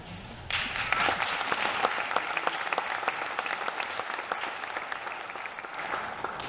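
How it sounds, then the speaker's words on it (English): Applause from an audience at a senior honors night ceremony, steady and dense clapping that starts abruptly and carries on throughout, with no talking over it. "Got the round of applause"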